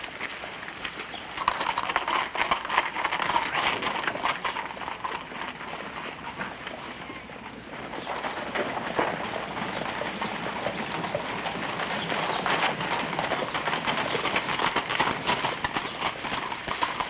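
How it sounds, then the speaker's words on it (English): Horses' hooves clip-clop steadily and close by on a street in a 1961 Western frontier town, a continuous trotting patter with occasional faint bird calls and no talk. "Billy, take the horses around the livery stable."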